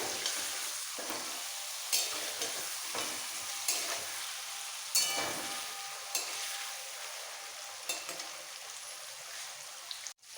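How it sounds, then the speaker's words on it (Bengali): Paneer cubes fry in hot oil in a pan for a shahi paneer dish, giving a soft, constant sizzle broken by sharp clacks and scrapes as a spatula turns the pieces at irregular intervals. "পনির ভাজা হয়ে গেছে আমি তুলে নিচ্ছি"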